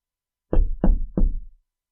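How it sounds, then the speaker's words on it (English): Three firm knocks land on a door in an even, deliberate rhythm, each a deep, resonant thud with a short decay, close and loud against total silence. "I knock at the door"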